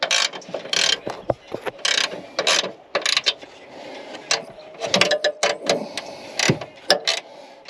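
A ratchet wrench tightens bolts during a rear RCF RR Racing R3 coilover install, giving loud, close bursts of rapid clicking that stop and start repeatedly with no talking.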